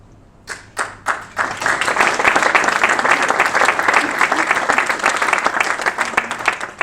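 Audience applause at a startup accelerator demo day pitch: a few isolated claps at first, then building quickly into loud, sustained clapping from a crowd that continues to the end.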